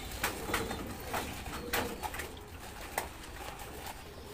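Pigeons cooing in a loft, a series of soft, repeated coos at an uneven rhythm over a constant rustling background, fairly close and with no talk.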